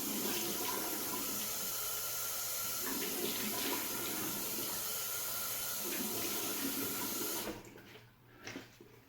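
Shaving gear is rinsed under a running bathroom tap, a close, steady rush of water that cuts off near the end, followed by a few faint clicks and handling sounds.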